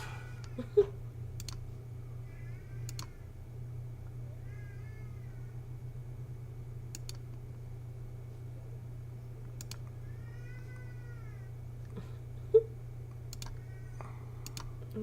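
A house cat meows softly several times in a workshop during shadow-box carving and laser engraving, short tonal calls spread across the stretch over a steady low hum, with occasional sharp clicks and no talk.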